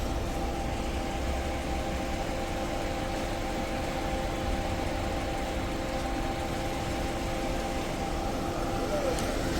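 A 2016 Toyota Camry sits idling with its A/C compressor running. A steady mechanical hum and whir holds with constant tonal drones under broad engine noise and does not change throughout.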